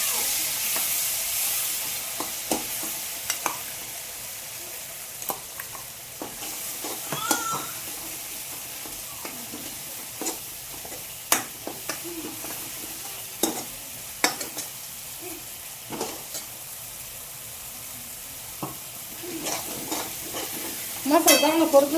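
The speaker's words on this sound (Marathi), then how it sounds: "मसाला चांगला परतून घ्यायचा" Ground masala with garlic and cumin sautéing in oil in a pan, a steady soft sizzle under frequent scraping stirs and occasional clinks, with a louder burst of frying near the end.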